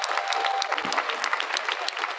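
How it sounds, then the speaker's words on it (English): Audience clapping in a room at a climate emergency town hall, a dense, even round of applause that holds steady throughout, fairly close and loud, with no talk over it. "let's clap"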